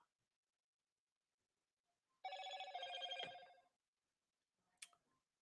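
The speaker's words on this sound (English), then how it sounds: "Oh, I heard a phone ringing." A telephone rings once in a quiet room, a single bright electronic trill lasting over a second, followed by a faint short click after a pause.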